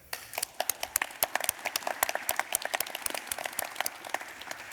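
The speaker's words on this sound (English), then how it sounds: "A big applause." A modest crowd at an arts talk claps in crisp, separate slaps that thicken into steady applause, close and clear, building slightly in density across the stretch without speech.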